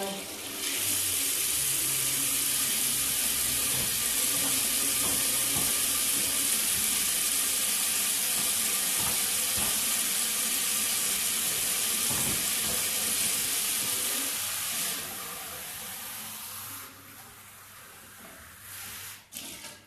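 Warm water pours from a tap into a glass in a home kitchen, a loud, steady close-up rush that runs for about fifteen seconds before thinning out and stopping, with faint rustling afterward.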